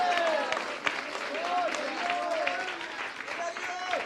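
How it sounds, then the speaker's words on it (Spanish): A church congregation applauds during a sermon, steady clapping filling the room while a voice keeps speaking and calling out over it. "Dale un aplauso, di amén."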